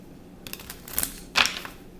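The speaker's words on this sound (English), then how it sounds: "All right, I'm going to shuffle." Tarot cards shuffled by hand in a quiet room: a soft riffle, then a sharper, louder burst of card flutter near the end.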